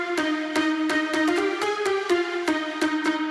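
A layered synth lead from a dance music production plays a bright, rhythmic melodic line of short, evenly spaced plucked notes with rich harmonics, loud and clear without any voice.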